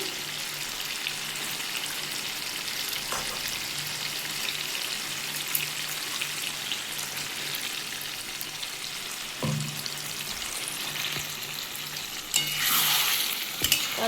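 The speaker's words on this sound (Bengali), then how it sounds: "এসব দিয়ে ভালো করে আমি কষাবো আর এই সময় একটু নাড়তে হবে" Cashews, melon seeds and peanut paste sauté in a pan with a little water for a paneer, potato and ridge gourd dish, keeping up a steady close sizzle with occasional stirring scrapes and a louder burst near the end.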